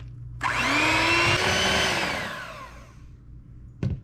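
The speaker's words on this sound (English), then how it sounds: "I'm gonna use my hand mixer instead of the masher because I'm trying to move things along quickly." An electric hand mixer whirs loudly through boiled potatoes for mashing, starting abruptly and holding a high motor whine for about two seconds before winding down, then a short burst near the end.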